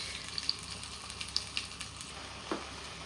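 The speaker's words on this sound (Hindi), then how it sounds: "अच्छा, हम इसको अब थोड़ा सा फ्राई करूँगी मैं।" Mutton with desi spices frying in a clay pot for Punjabi-style mutton kunna, a steady soft sizzle with a few light clinks and stirring scrapes, heard alone.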